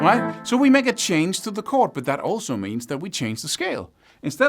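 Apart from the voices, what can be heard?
None of the usual background noises is heard.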